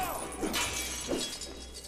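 Crates shattering in the LEGO video game The Hobbit, two quick breaking crashes about half a second apart, heard at moderate level over a busy game soundtrack.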